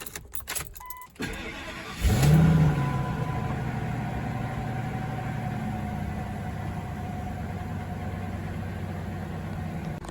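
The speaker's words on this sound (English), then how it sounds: "I'm gonna start it right now for the first time since yesterday" A car with a head gasket problem, treated with sealer, starts after a brief crank following some key and interior clicks, then settles into a steady, even idle that continues close and alone.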